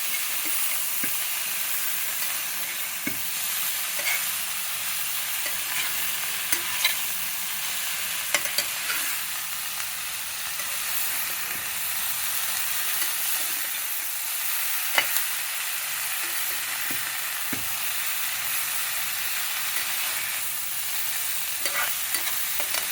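A pan curry with coriander leaves, likely fenugreek-leaf or cauliflower fry, sizzles steadily while being stirred and mixed, with scattered scrapes and clicks from the spoon against the pan. Close and continuous, with no voices.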